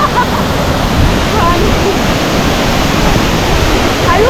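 A loud, steady roar of water from the roughly sixty-foot Padsali waterfall near Padsali Dam fills everything, constant and close, with a faint voice barely audible beneath it.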